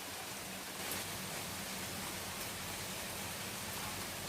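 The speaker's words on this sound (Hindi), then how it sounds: "कोयल की कूक सुनाई पड़ रही है और साथ ही बारिश की" Steady monsoon rain falls in the early morning, a dense, even hiss that continues unbroken throughout.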